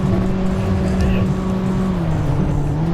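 A Mitsubishi Outlander drives through city streets in the evening, its engine holding a loud, steady drone with a slowly shifting pitch, heard from inside the car under a continuous road rumble.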